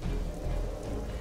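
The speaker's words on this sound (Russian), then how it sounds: "Мне нравится шум дождя." Steady rain in the video game Teenage Mutant Ninja Turtles: Legends, a dense continuous patter with no break, filling the short stretch evenly at a moderate level.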